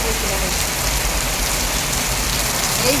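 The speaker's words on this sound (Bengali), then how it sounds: "3 দিন থেকে এইভাবে শুধু বৃষ্টি করে মাথায়।" Heavy monsoon downpour that has lasted for days, a dense, steady hiss of rain drumming on surfaces, loud and unbroken throughout with no pauses or other clear sounds.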